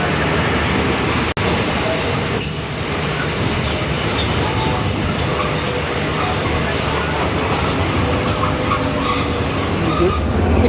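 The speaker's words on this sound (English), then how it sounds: "It is a 2-carriage train that brings us to Laos from here." A two-carriage cross-border shuttle train between Thailand and Laos rumbles steadily throughout with wheels squealing along the rails, a continuous loud mechanical roar with faint high metallic tones.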